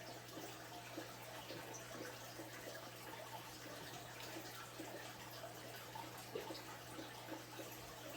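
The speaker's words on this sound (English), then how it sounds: "you can pinch your hose to control the water" Steady rush of running water, constant and unbroken, from a garden hose flowing close by into a fish tank during a water change, with no one speaking.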